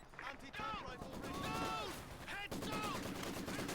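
Sturmgewehr assault rifle fire in Company of Heroes, bursts of gunfire crackling from several directions under constant chatter and other battle noise, with someone talking over it.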